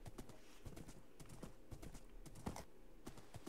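Horse hooves clip-clop in Minecraft survival 1.20.6, a steady run of quick, close hoofbeats over continuous game ambience, with a faint neigh possible.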